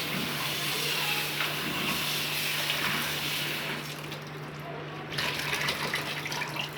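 Water sloshes and pours steadily as greens are rinsed in a bowl, with a faint steady hum beneath and a short dip in the splashing before it resumes.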